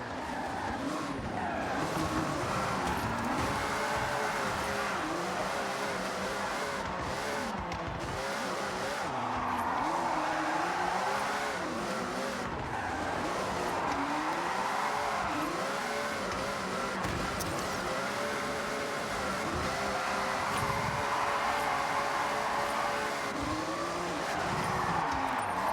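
A Ferrari drifting around a circuit in Forza 6, with a continuous engine roar and long, wavering tire squeals as the car slides through corners, loud and close throughout.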